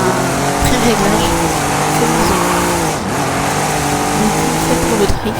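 A 2003 Nissan Fairlady Z with a drift setup revs loudly and steadily in the racing game Forza Horizon 5, its engine tone rising and falling with faint tire squeal over a continuous close roar.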